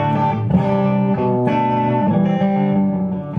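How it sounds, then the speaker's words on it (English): Electric guitar played through a compressor pedal, sustained chords and notes ringing evenly with smoothed attacks and full mids, close and steady with no talking. "This is with the compressor on."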